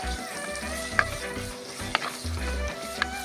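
Chicken perattu sizzles in a hot pan as more ingredients go in, a steady close frying hiss broken by stirring scrapes and three sharp clinks of a spoon against the pan, with no talking.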